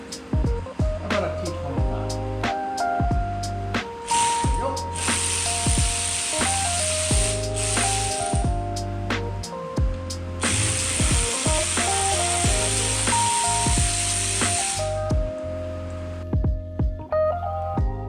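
Screws being removed from the convertible top of a 1998 Ford Mustang (SN95), with repeated ratcheting clicks, tool whirs and metallic rattles up close, broken by short bursts of hiss and brief pauses.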